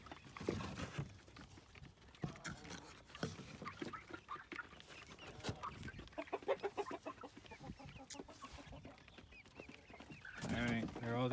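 Adult chickens and young chicks together outdoors at a chicken tractor, with clucking and chirping in bursts, close to the listener, and a person talking intermittently over the birds.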